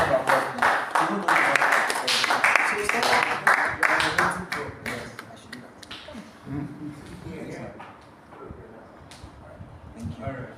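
Audience clapping at an inauguration convocation ceremony of a structural academy, a dense burst of applause that is loud at first, then thins and fades toward the end, with voices mixed in.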